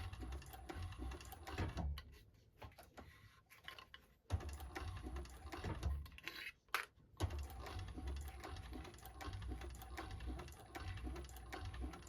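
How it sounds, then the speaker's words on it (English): A domestic sewing machine runs steadily, stitching the seam of an interfaced tote bag with a close, busy mechanical whir that pauses briefly a couple of times before carrying on. "I'm sewing right along, that's the seam allowance"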